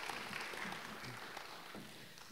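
Audience clapping fills a hall at a social work day celebration, a steady broadband patter of many hands with no voices over it.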